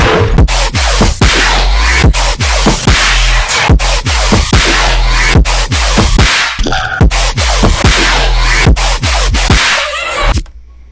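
A heavy, gritty synth bass patch built in Serum: a loud, rhythmic pattern of punchy, distorted bass hits and snappy transients repeating steadily for about ten seconds, with no voices.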